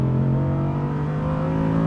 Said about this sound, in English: There's a lot going on when you put your foot down in this car, soundtrack-wise.